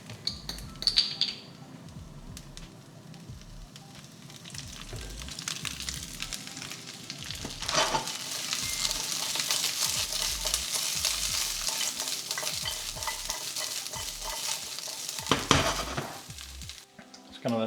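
Quorn pieces sizzle and fry steadily in oil in a pan, a continuous crackling hiss broken by repeated scraping stirs, with a few louder clatters of utensil on pan near the end.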